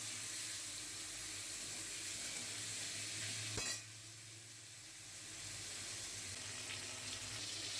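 Potatoes and drumsticks frying with salt in a pan for a fish curry, a steady broadband sizzle throughout, with a brief sharp knock midway before the frying noise settles slightly quieter.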